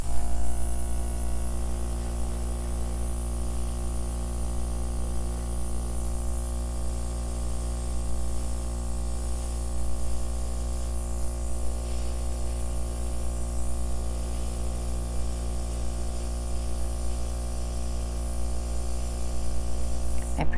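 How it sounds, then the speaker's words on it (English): Continuous close hiss of an airbrush spraying paint over an acrylic pour, with a steady electrical hum underneath and no pauses for twenty seconds. "let's airbrush, because I think I can fix these colors I don't like with the airbrush"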